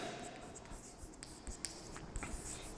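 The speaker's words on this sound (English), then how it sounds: "You write the propane like this." Chalk or marker writing on a board during a chemistry lesson: soft, scratchy strokes and taps at close range, faint and irregular, with no speech over them.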